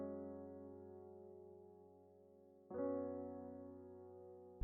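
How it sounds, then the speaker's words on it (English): Sustained piano chords in a simple beat pattern programmed in FL Studio for a verse, one held chord changing to a brighter one near the end, steady and alone with no voices. "add like a nice simple piano for the verse"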